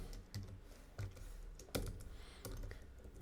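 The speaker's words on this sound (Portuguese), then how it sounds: "E vou digitar aqui um console log." Code is typed into an index.js file on a computer keyboard in a short, quiet burst of a few separate keystrokes, heard close up with no talking.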